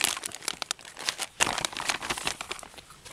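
Plastic packaging of a Mach self-heating bag crinkles and crumples as it is opened, a close, busy rustle with a sharper tearing burst midway and no talking.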